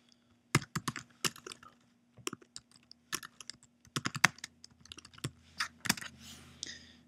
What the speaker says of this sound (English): We're going to type out our text.